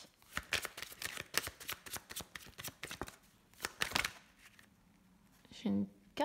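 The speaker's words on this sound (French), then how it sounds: "Je vais aller faire une petite coupe avec mon oracle des couleurs." An oracle card deck is shuffled in the hands, a rapid run of crisp riffling flutters followed by a short pause and a few softer taps as the deck is cut, with a voice briefly heard at the end.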